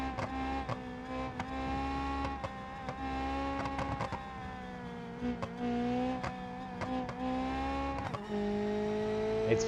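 A game car engine whines at high pitch, revving up and dropping with gear shifts, sharp clicks breaking in now and then.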